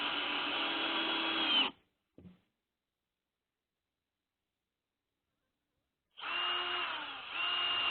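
A power drill drives screws into a wooden transom frame in two close whirring bursts of about two seconds each, separated by silence and a brief knock.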